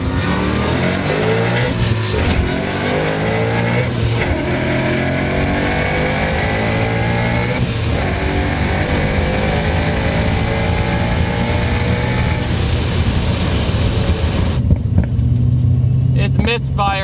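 A Ford Mustang engine revving hard with a misfire, its rough, loud drone rising and falling in pitch through repeated pulls, while people talk over it.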